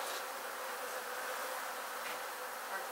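Bees swarming between the walls of a building during a bee removal, a dense, steady buzzing hum that fills the space, fairly faint and continuous with no voices.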